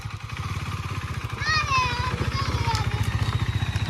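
A Kunali bike races a Kawasaki Ninja H2R motorcycle, the engine chugging with a rapid, steady pulsing beat throughout, loud and close, while a voice talks over it and brief higher whining sweeps rise midway.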